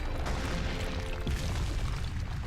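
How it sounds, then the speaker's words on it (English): Repeated deep booms and bursts from a super punch in the video game Naruto Shippuden: Ultimate Ninja Storm 3, a dense, loud rumbling barrage of explosions filling the whole stretch with no voices. "All the explosions happening just from that one punch."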